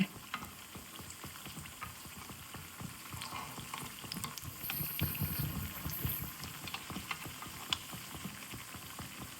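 Unniappam made with wheat flour, rava and banana frying in coconut oil and ghee, a steady soft sizzle with bubbling and occasional stirring clicks, close and quiet, with no talking.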